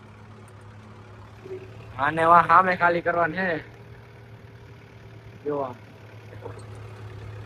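A tractor engine idles on a farm with a low, steady hum throughout, while someone speaks briefly over it nearby.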